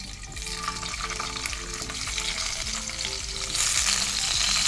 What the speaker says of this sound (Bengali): আমি একটু ভাজাগুলো ভাজতে বসেছি